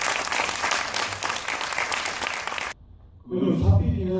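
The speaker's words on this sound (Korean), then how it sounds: "박수 한번 쳐주시죠." Audience applause at a film premiere event with a UFC fighter, a dense burst of clapping for nearly three seconds that cuts off abruptly, followed by a brief lull and then talk over the room.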